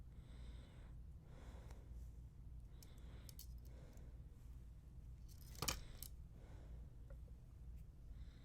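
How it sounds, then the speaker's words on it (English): Wire cutters snip bead stringing wire for a minimalist sunstone necklace, giving one sharp, close click partway through, with faint handling rustles in a quiet room. "I'm just gonna snip off a little bit here"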